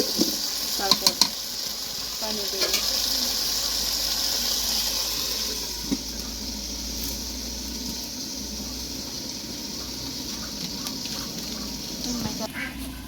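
Rice is stirred into fried vegetables in a pot for khichuri, scraping and clinking of a spoon over a constant sizzle, a few sharp knocks at the start and light clatter near the end.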